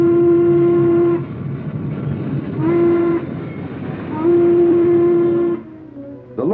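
A 1950s Norfolk and Western steam locomotive runs at full power, a loud rumbling train passing close with three sustained blasts of its whistle or horn and a steady rolling clatter underneath.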